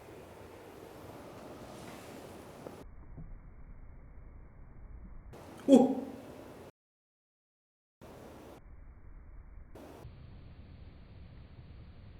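Wind buffets a microphone outdoors, a steady broadband rush that comes and goes in stretches with sudden cutouts and one louder gusty thump midway, close and rough with no voices.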